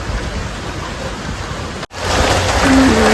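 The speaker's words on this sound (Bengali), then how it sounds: "ভালো বৃষ্টি হচ্ছে" Steady rain hissing close by, a broad wash of noise that briefly drops out for an instant, then returns slightly louder.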